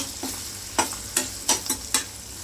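Small onions and salt frying in a hot pan with a soft steady sizzle, broken by a few sharp scrapes of a spatula stirring.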